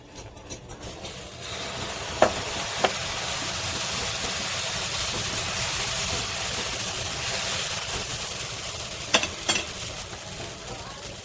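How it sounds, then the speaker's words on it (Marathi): Oil sizzles on a hot tawa while jowar dosa is cooked, a steady, moderately loud broadband crackle held throughout with a few sharp clicks and taps of utensils near the start and end. "आता तवा छान गरम झालाय, आपण थोडं तेल लावून घेऊया म्हणजे डोसा खाली लागणार नाही।"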